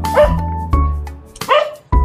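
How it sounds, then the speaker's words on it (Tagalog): Dogs bark and yip in loud, close bursts, about four sharp barks with whimpering tones between them, at a scenic dam lookout. "Ito may mga aso pa na sila yung mga bata sila."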